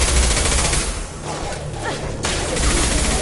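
Gunfire in the PlayStation 4 Legendary Edition of the video game Mass Effect 2, loud rapid bursts of automatic fire with whooshing shots that stop briefly in the middle and then resume.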